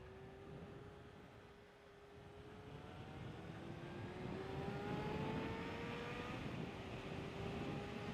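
Suzuki Bandit 600 motorcycle engine heard from a distance, pitch repeatedly dropping and climbing as it changes down through the gears, rising gradually louder over a steady road rumble.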